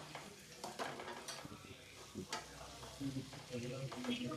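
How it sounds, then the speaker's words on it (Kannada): Cashews fry in a pan for paneer gravy, making a close, continuous sizzle with repeated scraping stirs and light clinks of a utensil against the pan. "ಈ ತರ ಫ್ರೈ ಮಾಡ್ಕೊಳ್ಳಿ"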